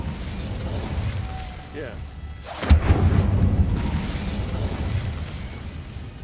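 The Incendio fire spell cast in Hogwarts Legacy, a sudden whooshing burst with a sharp onset followed by a crackling fiery roar, heard under game ambience and a brief voice.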